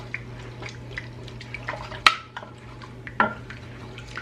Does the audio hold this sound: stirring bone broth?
yes